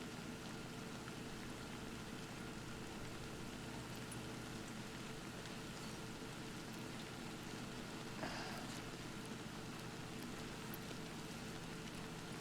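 Steady rain in Death Stranding falling in an even, continuous hiss, with a faint patter on surfaces and one brief soft knock partway through; no voices.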